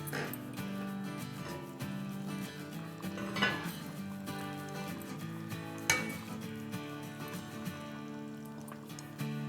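Potatoes go into a pot of mutton for aloo gosht salan, a quiet bed of clinks and metal scrapes from the pot and spoon with a couple of sharper knocks.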